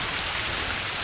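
Heavy Amazon rainforest downpour during an endurance race, a loud continuous roar of rain pelting surfaces, close and unbroken, with no voices.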